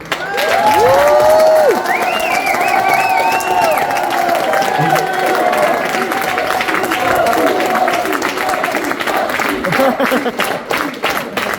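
A concert audience breaks into sustained applause and cheering, with scattered shouts and whoops over steady clapping. A sung or called-out voice rises briefly near the start.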